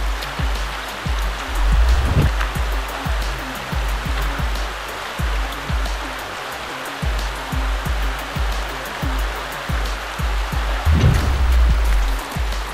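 Fast-moving river water rushes loudly and steadily as a bottle is filled, a dense broadband roar with recurring low gurgles and splashes close by.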